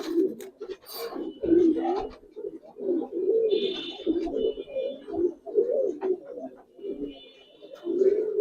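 Large old-breed Giribaz pigeons coo in repeated throaty, rolling bursts close by, the pulsing calls overlapping with short pauses and an occasional scratchy flutter.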